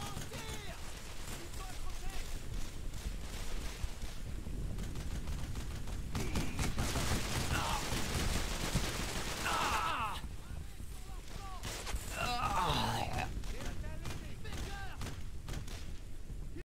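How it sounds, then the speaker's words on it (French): Suppressing gunfire in the World War II shooter Brothers in Arms: Road to Hill 30, sustained bursts of rifle and machine-gun fire with thuds, dense and continuous, with shouted squad voices over it. "Tir de suppression."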